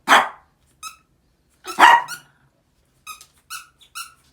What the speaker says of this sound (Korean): 어디서 자꾸 개소리지?